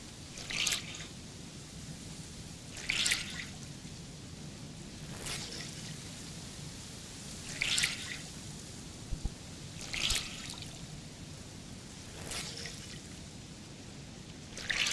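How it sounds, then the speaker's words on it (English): Wet clothes are wrung out in the DayZ video game, six evenly spaced splashy pours of dripping water about every two and a half seconds over a faint steady background hiss. "I'm gonna wring my clothes out."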